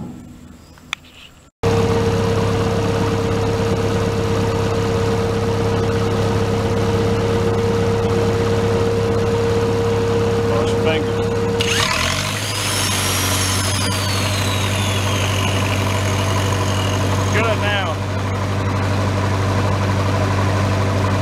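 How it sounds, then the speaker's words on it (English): Welder generator engine in a workshop starts after a brief silence, then settles into a loud, steady idle with a low drone that shifts pitch slightly partway through, while faint squeaky metallic sounds come and go over the running engine. "So we're gonna fire up and see if she'll run a grinder now."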